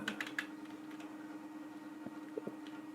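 A few light, scattered keystrokes on a computer keyboard, faint and sparse over a steady low hum, with no speech.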